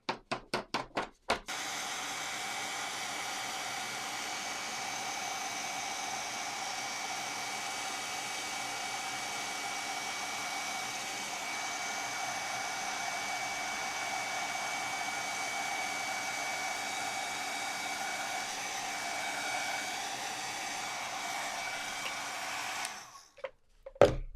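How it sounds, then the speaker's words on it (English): A craft heat tool blows hot air to melt embossing powder, a steady, moderately quiet fan-like whoosh that runs for over twenty seconds between a few sharp clicks at the start and some taps at the end. "we'll warm up our heat tool and melt the powder"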